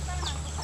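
A farm chicken gives faint, brief clucks against a steady low background hum, heard alone with no talking.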